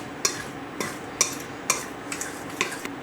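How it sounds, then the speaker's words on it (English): A spoon stirs Splenda and salt together in a bowl, giving a series of sharp, evenly spaced clinks and scrapes, about six strokes, close and fairly quiet. "and we're going to mix that together."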